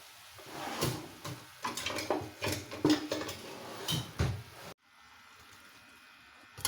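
Carrots being tipped into simmering milk that is thickening toward khoa in a pot for gajar ki barfi, heard as a run of clinks, clatters and knocks against the pot, close and moderately loud, then a quiet stretch at the end.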